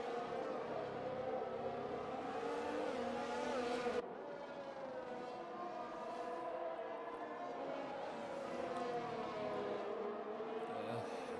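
Ferrari and McLaren Formula 1 cars racing in a video game league event at the Netherlands circuit: continuous high-pitched engine whine rising and falling with gear changes, loud and steady throughout.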